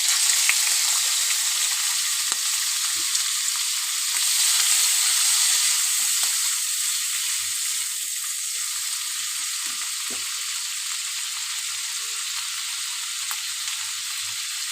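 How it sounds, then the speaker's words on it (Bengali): Prawns fry in oil tempered with cumin, giving a steady, loud hissing sizzle that stays constant throughout with faint occasional clicks, close up and with no speech. "এখানে ফোড়নে জিরে দিয়ে দিয়েছি, আর চিংড়ি মাছটা দিয়ে দেবো"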